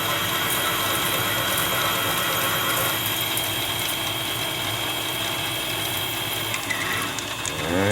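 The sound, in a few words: large drill bit drilling a hole in metal at low speed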